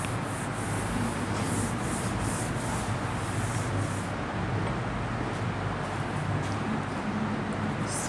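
A question being wiped off a classroom board, heard as a continuous dry, scratchy rubbing that swells in rhythmic strokes and then steadies, loud and close, with no voice over it.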